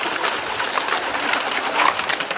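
Domestic pigeons leave their loft one by one at a home in Kulgachia, Bagnan, with a dense, continuous, close rush of fluttering and cooing and no voices.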